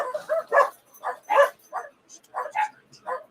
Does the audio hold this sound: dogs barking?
yes